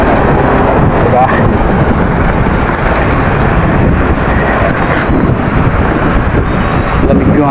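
Strong wind buffets the microphone in a constant low roar, rumbling throughout with faint background sounds beneath it.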